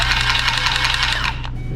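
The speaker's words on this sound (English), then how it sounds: "It's a rotary pipe cutter." A battery-powered rotary pipe cutter sized for 1/4 inch to 1 inch copper pipe runs with a steady close whirring buzz and rapid rhythmic pulsing for nearly two seconds, easing slightly at the end, with no talk over it.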